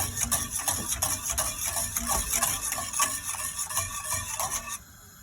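A spoon stirs 5-6 spoonfuls of sugar into milk in a pot for bread custard, making a steady, close, rhythmic scraping and swishing that runs continuously and stops just before the end.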